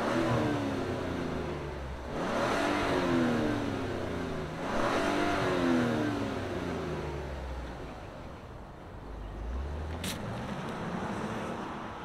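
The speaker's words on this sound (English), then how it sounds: "let's fire up this CX-90 and see it roll" Turbocharged straight-six engine of a 2024 Mazda CX-90 SUV, a steady close engine drone with two swelling rev-like rises, then a softer settling hum, no talk.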